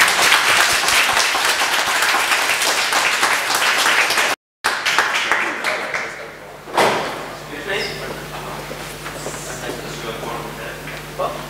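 Dense applause from an assembly hall at the PPI General Assembly in Nanterre, Paris, after a vote admitting Norway. A sharp thump cuts in partway, and the clapping fades under voices and room noise.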